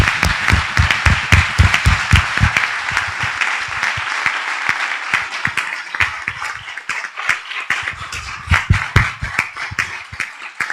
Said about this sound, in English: So a big round of applause for this organization.